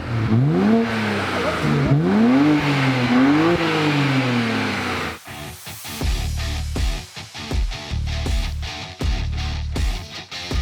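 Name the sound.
BMW 335i engine running and revving while warming up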